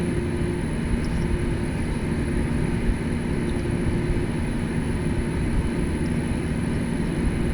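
Airliner engines droning steadily as the plane descends with throttles eased back in a flight simulator, a constant broadband cabin roar with a faint high whine, unbroken and moderately loud throughout.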